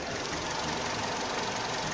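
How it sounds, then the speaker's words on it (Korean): Hood open on an LPG Hyundai NF Sonata, the engine idles close by as a steady, fairly quiet hum with a faint ticking texture and no voices. "영상으로 엔진 소음 한번 담아보도록 하겠습니다."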